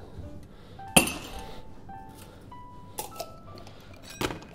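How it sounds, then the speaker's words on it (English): Glassware clinks and taps in a home bar as a cocktail is strained into a chilled glass: one sharp clink followed by a few lighter knocks, close and fairly quiet with no talk. "We're going to strain that into a chilled cocktail glass"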